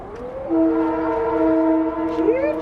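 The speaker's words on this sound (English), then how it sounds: "It's a very loud train going past." A loud, sustained horn from a passing train blares with steady tones, then slides upward near the end; a brief voice is heard at the start.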